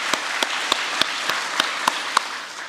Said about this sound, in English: let us extend our profound gratitude and honor to True Mother with a thunderous round of applause for this outstanding victory